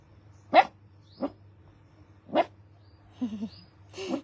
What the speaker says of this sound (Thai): เขาได้ยินอะไรเขาก็จะเห่าเลย